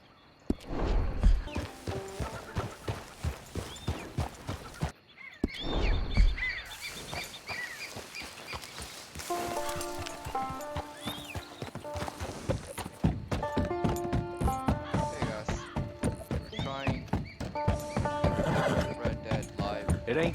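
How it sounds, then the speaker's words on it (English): Horse hooves clip-clop steadily with occasional whinnies in the open country of Red Dead Redemption 2, mixed with birdsong, music-like tonal layers and talking voices throughout. "Get on the horse there."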